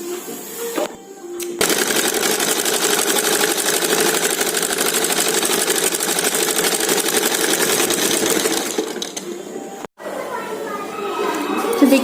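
A sewing machine stitches blouse lining in one long, steady mechanical run at close range, framed by brief handling noises before and after.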